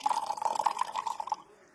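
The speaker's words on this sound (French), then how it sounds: "Donc là, il y a ça de sucre, donc on va venir rajouter de l'eau." Water pours into a glass holding sugar, a close, bright trickling and bubbling stream that runs for about a second and a half before fading out, alone without talk.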